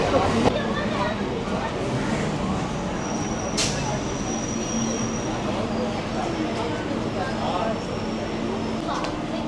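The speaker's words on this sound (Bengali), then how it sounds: "আমাদের ট্রেন এখন এসে দাঁড়ালো লেক গার্ডেন স্টেশনে" A Kolkata circular rail local train pulls into Lake Gardens station with a steady, loud carriage rumble and a brief high squeal, while voices murmur throughout.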